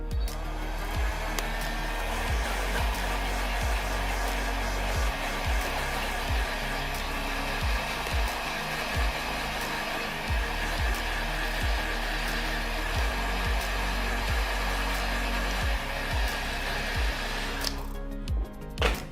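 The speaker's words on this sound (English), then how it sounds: "We're gonna blow heat to take out the gasket." A heat gun blows hot air to loosen the gasket during a cracked-screen repair on a Samsung Galaxy S10+, giving a steady, close whooshing blower hum that cuts off just before the end.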